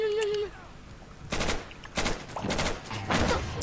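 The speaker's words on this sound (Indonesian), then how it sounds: "Aku pakai shotgun." Shotgun blasts in the Insurgency video game, several broad bursts spaced irregularly after a brief tonal sound, loud and close with faint voices in the background.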